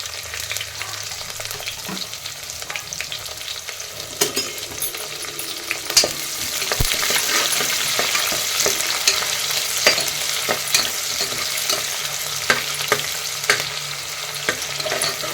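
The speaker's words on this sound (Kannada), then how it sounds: "ಪಲಾವ್ ಎಲೆ ಕಸೂರಿ ಮೇಥಿ ಹಾಕ್ತೀನಿ ಆಮೇಲೆ ಅಂತ ಉಳ್ಳಾಗಡ್ಡೆ ಹಾಕ್ತೀನಿ" Onion fries with spices, bay leaf and dried fenugreek leaves in a pressure cooker, a loud continuous sizzle broken by frequent scraping stirs and clinks from close up; no talking.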